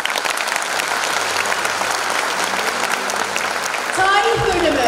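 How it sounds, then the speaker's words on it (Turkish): A crowd applauds graduates at a university history department graduation and award ceremony: dense, steady clapping fills the whole stretch and swells slightly louder toward the end, with voices or tonal sounds faintly mixed in. "Şimdi aydınlık geleceğimizin yıldızları, sevgili mezunlarımızı alkışlarımıza davet ediyoruz."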